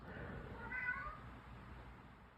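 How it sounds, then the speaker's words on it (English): A cat meows in the background, one drawn-out call rising and falling midway, fairly faint against a low steady room hum. "My cat is trying to answer the question in the background."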